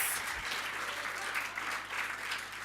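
Audience applause at a campaign launch for NPO status awareness, a steady dense clapping from a crowd that holds at an even level throughout without pauses.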